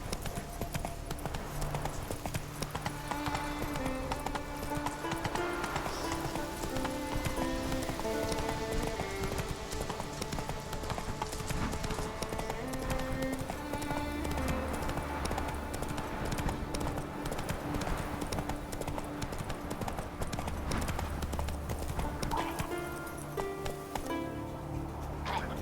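Horse hooves clip-clopping steadily at a gallop in The Witcher 3, set in Skellige, continuous rhythmic thuds under a constant game score with no speech.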